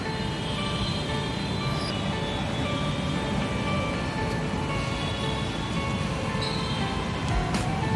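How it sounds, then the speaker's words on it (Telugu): At a metro station, a train rumbles steadily with a dense low roar, faint high metallic squeals and tones drifting above it, and a few sharp clicks, all continuous and fairly loud with no voices. "Metro station."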